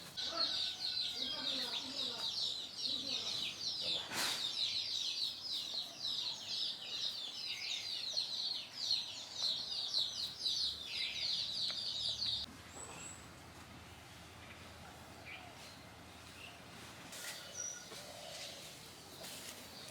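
Desi backyard chickens cluck and chatter in a dense, steady chorus with birds calling over it, then the flock quiets and only faint background calls remain.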